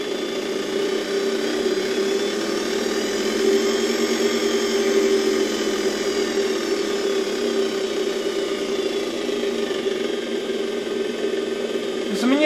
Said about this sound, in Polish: Zobaczcie, super, odkurzacz zaczyna się kręcić.